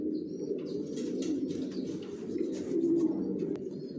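A pair of top-quality racer pigeons coo continuously up close, low throaty rolling calls overlapping in a steady stream, with a few faint higher chirps and light rustles alongside.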